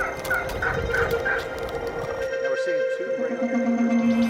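Several quick gobbles from a turkey ring out near and loud, followed by a low steady drone, with a voice speaking underneath.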